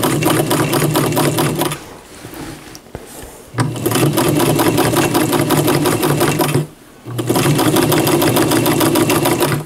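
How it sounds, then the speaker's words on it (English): Sewing machine stitching a dress seam on fabric with some body, a loud steady mechanical whirr in three long runs with two brief stops between them. "before I sew this other side"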